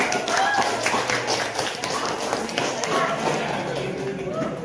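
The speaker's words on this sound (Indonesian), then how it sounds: "Tepuk tangan dulu." A class of students clapping hands together in a classroom, a steady dense patter of claps that carries on for several seconds with voices mixed in.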